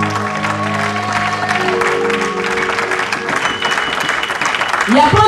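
A church congregation applauds loudly and steadily for several seconds, a dense continuous wash of clapping from many hands with sustained tones and voices mixed in underneath.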